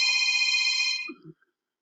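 A telephone rings once, a bright electronic ringtone tone held for about a second before it cuts off, followed by a faint clunk, then near silence.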